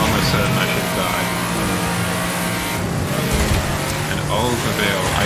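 An Oldsmobile's engine in a racing video game drones and revs steadily, loud and continuous, with a person talking over it.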